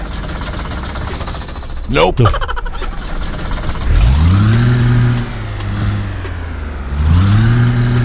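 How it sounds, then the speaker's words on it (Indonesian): A modified truck in a driving game starts up and revs, its low engine drone rising and falling in two broad swells over steady background noise, while someone talks over it. "Kita nyalakan mesin."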